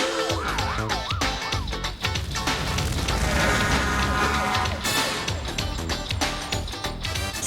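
A loud wailing emergency siren rising and falling, layered with rumbling, crashing background noise and dramatic sound effects.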